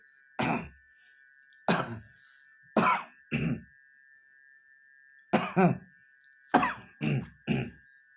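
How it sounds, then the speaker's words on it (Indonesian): Eight short, dry fake coughs and throat-clearing bursts come in irregular clusters, close and isolated, with a faint steady electronic tone behind them. "mencoba batuk-batuk padahal tidak batuk"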